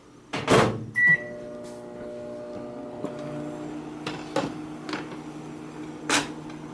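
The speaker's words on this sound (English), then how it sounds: "we're going to just go ahead and put that back in the microwave for another 30" A microwave oven reheating pasta: a door clunk and a button beep, then a steady low hum as it runs, with scattered clicks and knocks from the kitchen and no talk.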